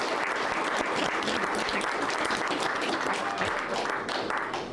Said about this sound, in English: please round of applause for all our panelists